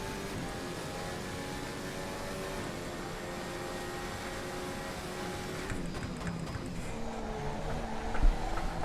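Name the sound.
Ferrari F14 T racing through a corner in the video game Assetto Corsa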